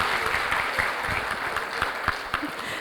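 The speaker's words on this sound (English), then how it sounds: "Can we give her a round of applause, please?" Audience applause at an International Association of Women Judges gathering, a steady wash of clapping from a large crowd holding at even strength for about three seconds, with no voices over it.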